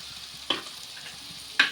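Ginger, garlic, green chili and curry leaves sautéing in a pan for Kerala fish pollichathu, a soft steady sizzle with two sharp stirring scrapes close by, no voices.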